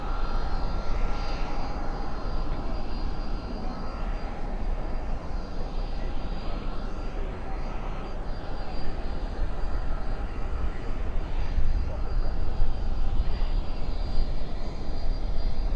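An American Airlines jet taking off at night at Dallas/Fort Worth airport, a loud continuous engine roar building and holding steady throughout, with a faint high whine on top.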